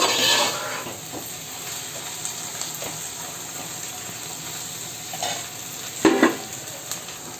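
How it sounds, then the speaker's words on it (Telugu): Taro curry with chili powder fries in hot oil, a steady soft sizzle with faint stirring scrapes and a couple of brief louder knocks near the end. "మనం ఒక 5 నిమిషాలు కూరను వేయించుకోవాలి. మనకి కారం స్మెల్ రాకుండా నూనెలో వేగాలి."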